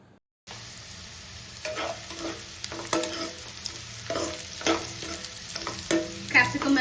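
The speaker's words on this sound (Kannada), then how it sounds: "ಕ್ಯಾಪ್ಸಿಕಮ್ ಎಲ್ಲ ಚೆನ್ನಾಗಿ ಫ್ರೈ ಆಗಿದೆ." Onion, green chilli and capsicum stir-frying for gobi manchurian, a steady close sizzle with frequent clinks and scrapes of a spatula against the pan, no talking.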